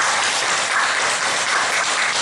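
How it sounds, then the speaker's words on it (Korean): A church congregation claps together in a brief, loud, even burst of applause with no talking over it. "박수하며 감사합니다"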